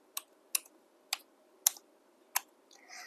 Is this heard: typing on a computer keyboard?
yes